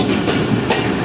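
A locomotive at a railway station in Pakistan, a brief burst of loud, steady low rumbling and engine drone close by.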